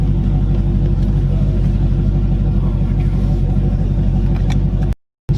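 Loud, steady low engine and exhaust drone inside a moving car, a constant rumbling hum that fills the cabin, breaking off abruptly for a split second near the end before resuming.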